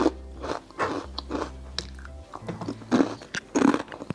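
Crisp, close crunches of spicy urad dal murukku shaped with a star nozzle, bitten and chewed in several bursts with brief pauses between them, with no voices.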